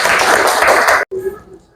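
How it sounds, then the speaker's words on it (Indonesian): A classroom of students claps for a classmate, a short burst of dense, loud applause lasting about a second that cuts off abruptly, followed by faint room noise. "Tepuk tangan untuk Radisti."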